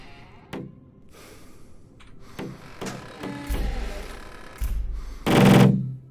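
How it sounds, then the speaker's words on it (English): In the video game Cataclysm DDA, a creature bangs on a window with scattered sharp thuds and knocks. Heavier impacts build toward the end, with a loud burst of noise at the close. "Why are you still banging on the window?"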